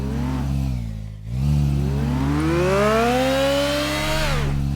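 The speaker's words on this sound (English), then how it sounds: "Look at how fast and cool this car is." A car engine in a video game revs up, dipping briefly, then climbing in a long rising whine that peaks and drops off near the end, loud and close with no talk over it.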